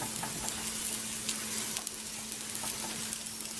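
A pronta fries in a pan while a spatula presses it lightly and turns it, giving a steady close sizzle with soft crackles and occasional scraping taps, no talk.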